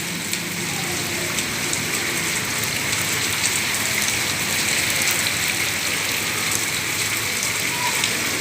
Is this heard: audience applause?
no